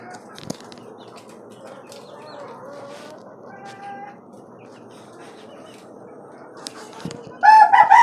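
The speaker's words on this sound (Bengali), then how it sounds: "পাঁচতলা বাড়ির ছাদের উপর খাঁচা বিশিষ্ট একটি মুরগির খামার দেশি ও টাইগার মুরগির খামার" Caged desi and tiger chickens on a five-storey rooftop farm cluck and stir faintly over a low outdoor hum, with wing flaps and then a louder burst of hen calls near the end.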